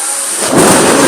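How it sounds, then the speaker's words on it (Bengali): A loud, sudden crack of thunder swells into a rumbling roar over the steady hiss of pouring rain during a heavy rainstorm. "প্রচণ্ড জোরে বজ্রপাত হচ্ছে আপনারা শুনছেন"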